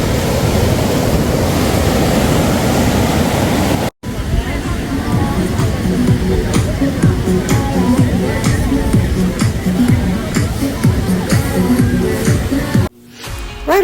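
Ocean surf washes steadily onto a resort beach, a loud, continuous rushing roar with faint distant chatter underneath and a brief dropout partway through.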